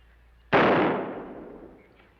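A single gunshot in a 1950s TV western, one sharp loud crack trailing off into a reverberant decay, with no other sound.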